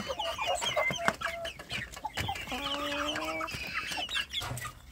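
Young Indonesian native (kampung) chicks clucking and peeping inside a plywood box, a busy overlapping chorus of short clucks and rising cheeps, close and continuous, with one longer tonal call in the middle.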